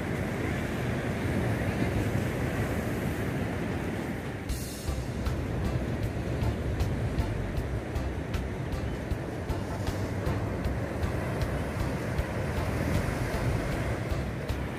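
Ocean waves break steadily on Cibratel beach in Itanhaém under a rising tide, with gusting wind buffeting the microphone in a continuous loud roar, in cold, overcast, rainy weather.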